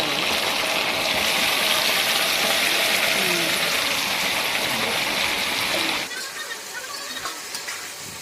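Marinated mutton hits hot oil with fried onions, setting off a loud, steady hiss and sizzle that drops sharply to a softer crackle partway through, with no voice over it.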